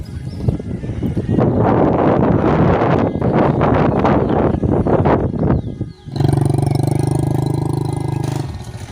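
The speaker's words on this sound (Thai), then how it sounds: "มื้อนี้ก็ยังมีลมเซยอยู่ทุกคนเลย" Gusty morning wind in a rural Bru tribal village rumbles and buffets loudly against the microphone for several seconds, then gives way to a steady engine drone.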